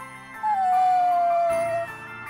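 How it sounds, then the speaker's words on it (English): In the video game Bravely Default II, a lost dog lets out a single drawn-out, mournful howl over soft background game music, gliding slightly downward before fading. "It's a lost dog."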